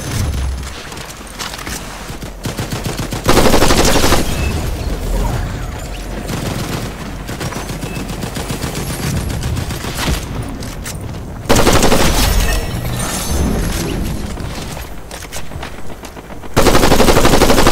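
Gunfire in the video game Fortnite, with dense rapid automatic bursts and heavy shots roaring almost continuously across the stretch, loud and close, growing louder in a few sections.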